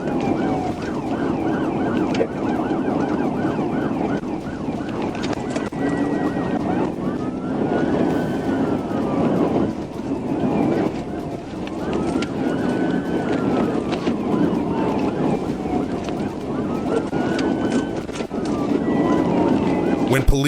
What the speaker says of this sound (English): When police activated their lights and siren, he accelerated away